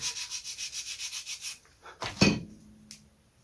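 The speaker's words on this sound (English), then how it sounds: "I'm going to sand the leading edge of this while I can get to it." Sandpaper rubbing rhythmically back and forth along the wooden leading edge of a model WW1 Airco DH2 biplane wing, about eight even strokes, then a few knocks and handling sounds.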